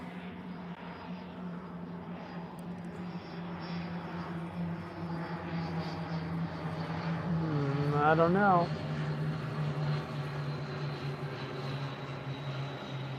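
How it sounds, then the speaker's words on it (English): A plane or jet passing overhead near a small private airport, a steady low engine drone that swells to a peak midway and then eases, with a brief voice speaking over it. "Hey, someone's plane's coming in."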